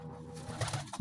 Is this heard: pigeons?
yes